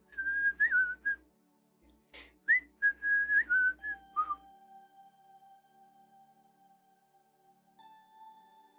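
A person whistles a short melodic tune, a few wavering phrases, then holds a long steady note that shifts pitch near the end.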